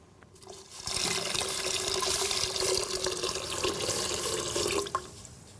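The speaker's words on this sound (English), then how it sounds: "Next, we'll put the vegetable broth." Vegetable broth poured into a pot of soup, a steady continuous splashing liquid stream running for about four seconds before stopping abruptly, close and fairly loud with no talk.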